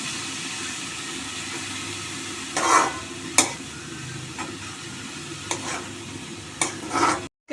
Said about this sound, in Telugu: ఇది వేపుకోవాలి లేకపోతే పత్ర వచ్చేస్తుంది ఆయన పొద్దు బాగా వేపుకోవాలి